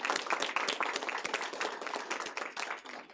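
An audience at a school district board meeting claps in a dense, steady burst of applause that continues for about three seconds with no pause.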